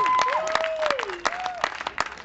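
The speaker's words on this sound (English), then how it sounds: "if you want to clap some more, that'll be" Audience at a stand-up comedy show claps and cheers briefly, fairly close in a small venue, with whoops and voices mixed into the applause.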